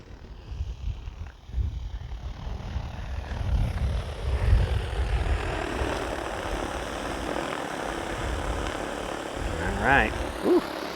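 XAG P150 agricultural drone descending to land outdoors, a steady loud rotor drone with rumbling wind-like low noise throughout, a whining pitch rising near the end as it touches down.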